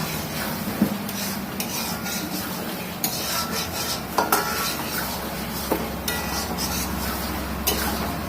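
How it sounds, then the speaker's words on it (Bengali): Beef is stirred and braised in a pan as a steady sizzle runs underneath, with repeated metallic scrapes and clinks of a spatula against the pan. "এখন আমরা খুব সুন্দর করে কষিয়ে নেব এই মাংসটা"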